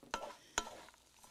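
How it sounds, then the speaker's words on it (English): Vegetable couscous is stirred in a pan, two sharp scraping strokes about half a second apart over a faint sizzle, heard up close and without talk. "And by stirring it through so that you've got it nicely blended with the vegetables"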